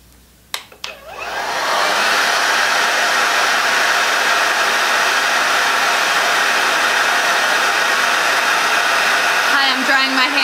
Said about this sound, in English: I'm drying my hair.